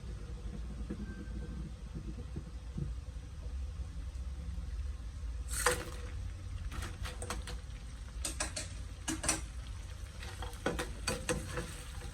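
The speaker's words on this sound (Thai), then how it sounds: "ผัดให้หอมนะครับ" Chili curry paste is stir-fried in a wok, giving a low, steady sizzle with scattered scraping and clattering bursts of the spatula in the second half.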